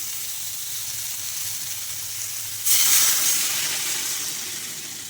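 A steady low hiss of frying potato and eggplant suddenly swells into a louder burst of sizzling and steam as water hits the hot pan, then slowly settles.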